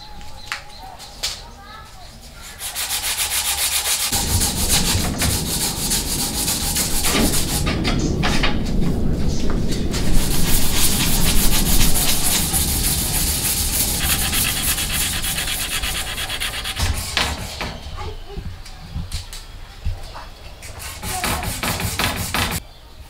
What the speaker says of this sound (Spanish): Vamos a empezar con lija 80.